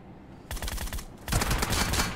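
Rapid bursts of automatic gunfire from the PUBG Mobile game in a warehouse team deathmatch, two quick volleys separated by a brief pause, fairly loud and without talk.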